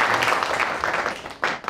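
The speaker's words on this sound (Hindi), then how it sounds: "एक बार ज़ोरदार तालियाँ होनी चाहिए हमारे" An audience applauds a guest in a talk-show studio, a brief burst of dense clapping fairly close by.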